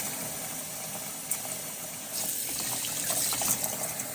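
Tap water runs steadily into a basin to soak a wool scarf with eucalyptus Eucalan wool wash, a soft broadband gush that swells slightly louder partway through, with no talk over it.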